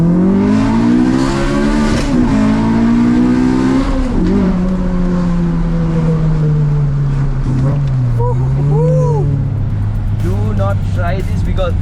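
A K20A-swapped race car engine revs high and holds, then drops, with pitch sweeping as it accelerates and shifts; loud and close, followed by squealing tones near the end.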